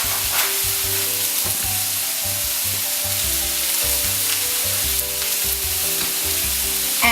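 Minced garlic and chopped mushrooms fry in a pan with a loud, continuous sizzle, while a utensil stirs and scrapes through them repeatedly; no one speaks.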